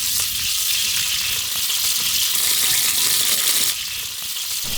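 Mustard seeds fry in sesame oil with a steady, close, bright sizzle and crackle that runs throughout, dipping briefly near the end, with no talking.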